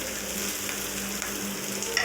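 Onions fry in a pan with a continuous, fairly close sizzle and stirring scrapes throughout, no voices over it.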